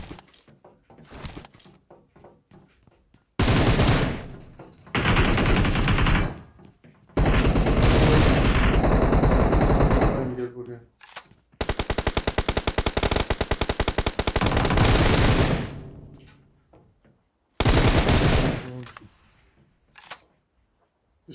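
Bursts of automatic gunfire in the battle-royale game PUBG Mobile, several loud sustained volleys separated by short gaps, close and dominant with no talk.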